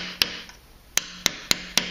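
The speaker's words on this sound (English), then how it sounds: "So you want to take a wooden wedge and a hammer" Hammer tapping a wooden wedge to straighten the rush strands on a chair seat being woven: five sharp, close wooden knocks spaced irregularly over a quiet background.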